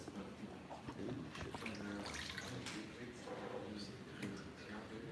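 Aquarium plants are rinsed and gently rubbed under a running tap, a steady splashing water stream with faint talk in the background.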